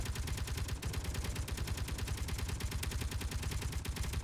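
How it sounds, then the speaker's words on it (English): Turret gun in Space Engineers firing a rapid, steady stream of loud, evenly spaced shots that run unbroken through the whole stretch, with no talking over it. "Is it shooting the gun? Oh, yeah, it is."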